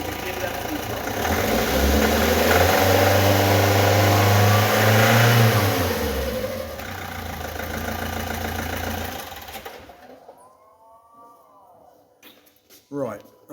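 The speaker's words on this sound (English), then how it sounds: "Now we're going to give that full throttle." A Vauxhall Zafira 1.7 diesel with low boost pressure is revved hard at full throttle, rising to a loud sustained roar before dropping back and cutting off; someone talks over and after it.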